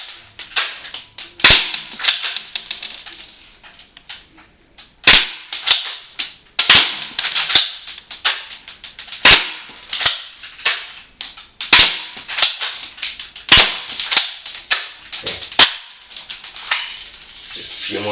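Mossberg tactical spring airsoft shotgun fires a long series of sharp, loud cracks, some in quick pairs and others spaced a couple of seconds apart, with faint handling clatter between shots.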